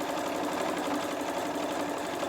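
A sewing machine stitches a corner of a quilted place mat with batting, a fast, even mechanical whirr running continuously and close throughout, with no speech.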